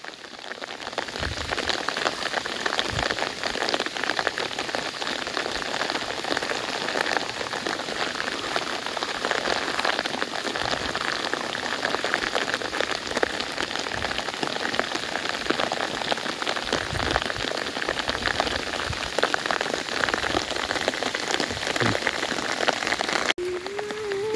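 Heavy rain pours steadily in a rice field for the whole stretch, an even, close hiss of drops drumming on a surface with no voices.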